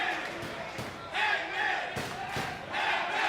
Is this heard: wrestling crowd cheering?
yes